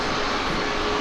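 An airplane flies overhead in Taipei, a loud, steady engine roar filling the short moment with no speech.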